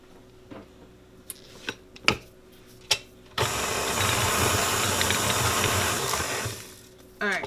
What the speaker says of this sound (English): I'm gonna put the machine back on and let this mix for about 3 to 4 minutes.